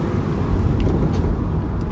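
A turbocharged W Ratchet X car accelerating, its engine a steady, loud rumble with a faint rising whine from the turbo spooling over a couple of seconds.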